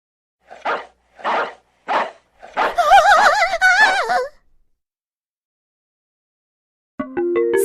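Cartoon dogs in a mobile story game bark three times in a steady rhythm, then let out a burst of yelping and whining as they chase mice, followed by a short musical chime after a pause.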